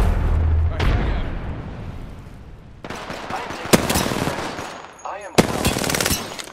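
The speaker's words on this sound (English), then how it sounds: "Opening fire on the enemy." Apex Legends gunfire rattles in repeated automatic bursts with sharp cracks between them, loud and close, while a voice briefly speaks.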